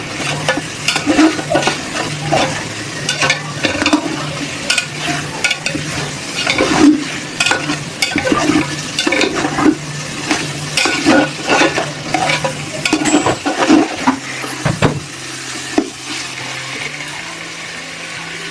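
Steady scraping and stirring in a pot as pulao is fried, over a continuous sizzle, with a low hum running underneath throughout.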